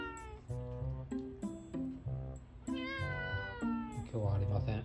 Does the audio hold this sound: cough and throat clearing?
no